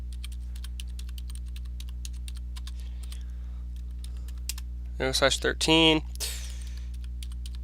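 Rapid, light clicks of typing on a computer keyboard run steadily over a constant low electrical hum, with a brief spoken phrase cutting in partway through.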